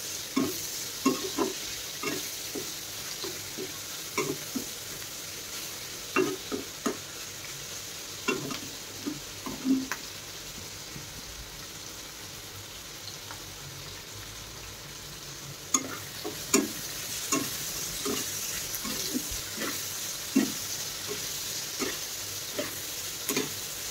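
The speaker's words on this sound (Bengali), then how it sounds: "তো এটাকে আমি এখন ভাজতে দেবো" Fish and pointed gourd fry in a pan with a steady low sizzle, broken by repeated stirring and clinks of a spatula at irregular intervals, moderately close, with no one speaking.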